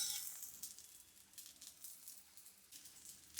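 A millet dosa fries on a hot pan, a faint, steady sizzle and crackle of batter cooking, with soft popping and no talking.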